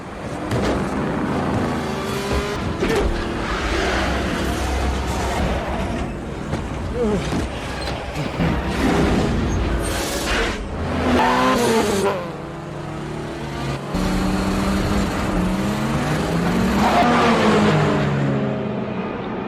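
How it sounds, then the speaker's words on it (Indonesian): A car engine roars and revs at speed, with rising and falling pitch, tire squeals and passing whooshes amid a busy, loud mix of sounds. "Dia mencoba kemampuannya untuk memacu mobilnya dengan kecepatan tinggi"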